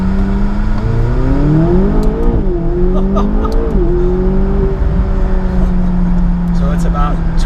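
A 2017 McLaren 570GT sports car accelerating hard on a straight road, its engine note climbing loud and close from the cabin, shifting pitch as it revs, with a voice talking over it.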